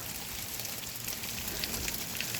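Sleet and ice pellets coming down with rain make a dense, steady hiss with fine crackling ticks throughout, continuous and even, with no voices.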